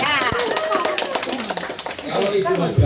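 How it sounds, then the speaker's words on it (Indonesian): A room of people applauds, steady scattered clapping with voices talking over it throughout. "Kasih tepuk tangan semuanya."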